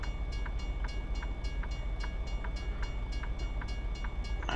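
Train passing in American Truck Simulator, a steady rolling rumble with regular rhythmic clicks of wheels over rail joints, continuous and fairly loud with no talking over it.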